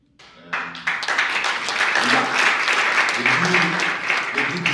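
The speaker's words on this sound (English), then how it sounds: "They do deserve that round of applause." An awards-dinner audience claps for the ESCOs, the applause starting abruptly and quickly swelling into steady, full clapping, while a low voice murmurs faintly underneath.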